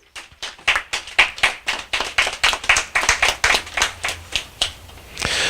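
Hands clapping at a hospitality certification event, a steady round of close claps, fairly even in rhythm and moderately loud, with no talk over it.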